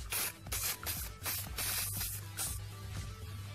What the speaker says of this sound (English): moving my camera from the spray here.